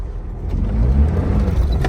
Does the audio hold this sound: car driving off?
yes